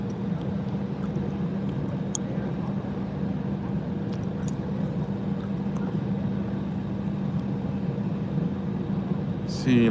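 Airplane at Monterey Regional Airport, a steady distant engine drone holding under a constant airport hum with faint clicks, continuous and moderately loud.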